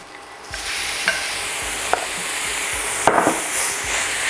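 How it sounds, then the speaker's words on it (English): Ground beef sizzles loudly in a pan beside cooked aromatics, broken by several sharp scrapes and knocks of a spoon stirring it at irregular intervals, with no talking. "I'm going to add our ground beef in."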